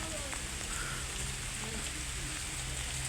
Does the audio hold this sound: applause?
no